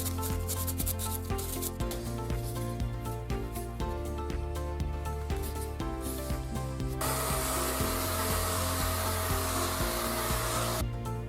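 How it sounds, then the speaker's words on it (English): XPS foam being partially hollowed out to make room for electronics in an RC plane fuselage, heard as steady rubbing and scraping strokes with a buzzing motor tone beneath, ending in a broader hiss of continuous abrasion. "to make room for the electronics, I have to partially hollow out the piece of XPS foam"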